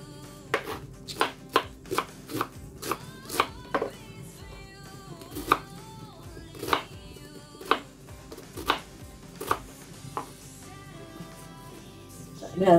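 Steady knife chopping of cauliflower on a cutting board, a dozen or so crisp, evenly spaced chops close by, with a brief pause near the end.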